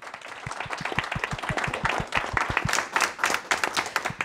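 An audience at a parish event in Châteauneuf applauds steadily, with dense, sustained clapping and individual sharp claps standing out near at hand, lasting throughout.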